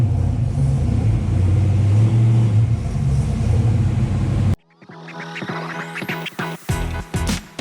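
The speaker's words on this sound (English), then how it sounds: "So I'm going to back the car in" A 1993 Ford Mustang Foxbody is backed in, its engine rumbling steadily and close for several seconds before cutting off, followed by scraping and clattering noises.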